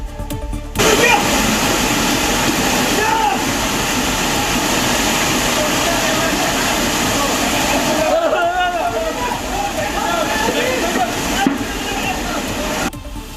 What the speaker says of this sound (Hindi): पानी का बहाव इतना तेज है कि लोग खुद को संभाल नहीं पा रहे हैं और पानी के बहाव में बहने लगे।